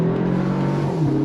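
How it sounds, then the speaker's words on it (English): A 2025 Toyota 4Runner TRD Pro pulls away from a dead stop, its engine a steady, close droning hum with a slight rise in pitch near the end and no talk over it. "Let's go on throttle from a dead stop."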